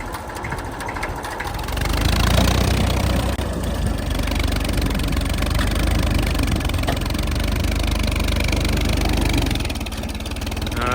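A farm tractor's engine runs steadily on a field, a continuous mid-low drone that swells slightly after the first couple of seconds and holds loud and even throughout.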